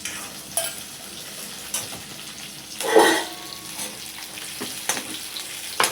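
Leftover rice and peanuts fry in oil with a little salt as a tempered rice dish, giving a low, steady sizzle with a brief stirring clatter partway through.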